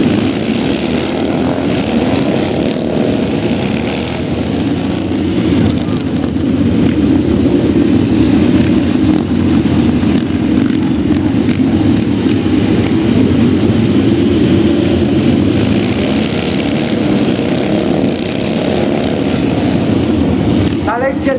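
White Helmets army display team motorcycles accelerate through a show arena at the Great Dorset Steam Fair in England, a steady loud engine roar lasting throughout, with a commentator's voice over a PA running underneath.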